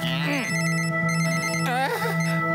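A mobile phone ringtone plays loudly and close, a bright electronic melody with warbling, swooping notes repeating over a steady tone.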